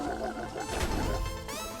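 A chaotic, crunchy enemy sound effect from the game Celeste, with gurgling, rumbling noise and warbling electronic tones, loud and continuous with no speech.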